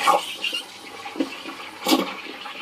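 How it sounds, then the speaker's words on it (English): An espresso machine's steam wand foams milk for coffee, a close, rushing hiss with gurgling bursts that swell and fade, and no one speaks. "apparently there's a technique as well to foam in the milk"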